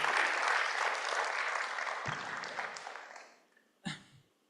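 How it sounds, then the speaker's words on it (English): A seminar audience applauds for three speakers, a full steady clapping that thins and fades out near the end, followed by a brief isolated thump or knock. "please give big applause for our 3 speakers"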